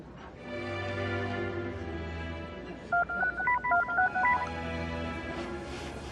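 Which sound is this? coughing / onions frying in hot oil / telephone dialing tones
telephone dialing tones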